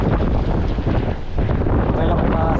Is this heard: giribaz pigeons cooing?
no